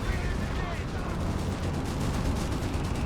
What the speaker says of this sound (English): Rocking off the gunfire.